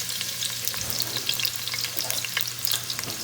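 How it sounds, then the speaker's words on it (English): Onion and butter fry briskly in olive oil, a bright, close crackling sizzle with scattered pops and light stirring throughout, no talking. "This is my olive oil and onion. I'm adding butter."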